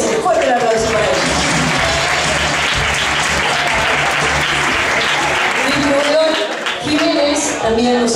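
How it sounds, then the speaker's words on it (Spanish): Sustained audience applause at a live singing contest's preliminary round, loud and continuous clapping from a large crowd throughout, with some voices mixed in. "Fuerte el aplauso para ellos."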